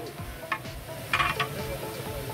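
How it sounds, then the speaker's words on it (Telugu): Chicken coated in masala being stirred and fried in oil in a large 15 kg function-style batch, with a soft steady sizzle and a few scraping stirs of the spoon against the pan. "ఆయిల్లో ఇలాగే కలుపుకుంటూ ఫ్రై చేసుకుంటూ ఉండాలి."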